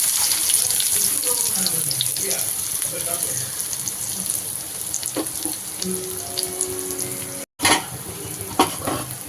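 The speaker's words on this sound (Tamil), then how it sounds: "இப்போ வந்து எண்ணெய் கொதிக்கிறதுல பார்த்திங்கன்னா இந்த வெங்காயத்தை சேர்த்துக்கலாம்" Onions fry in hot oil, sizzling and crackling steadily in a pan, with a few clinks of stirring and a brief gap near the end.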